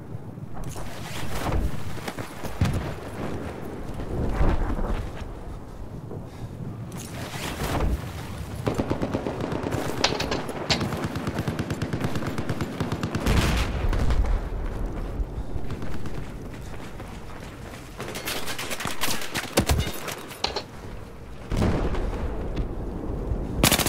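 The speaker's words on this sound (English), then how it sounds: "I'm getting sniped, like, left and right by fucking vehicle LMGs too" Vehicle-mounted light machine guns fire in Battlefield 4 close-quarters combat on Siege of Shanghai, with repeated bursts of loud rattling gunfire and booming explosions over a constant rumbling, windy battlefield background.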